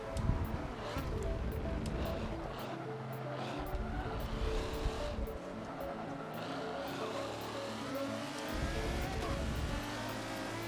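A Ferrari F50 races in Forza Motorsport 7, its engine revving up and down through gear changes with brief tire squeals, heard steadily and up close under faint background sound.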